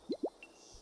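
Water wrung from cacti in the video game Carto, heard as two quick, soft dripping plops close together, then a faint high blip, all quiet and alone.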